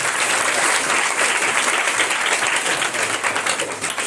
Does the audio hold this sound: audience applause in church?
yes